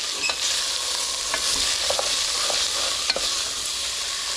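A spoon stirs veal stew in a pot in a home kitchen, with scattered scraping clicks over a steady sizzle, close and clear with no voices.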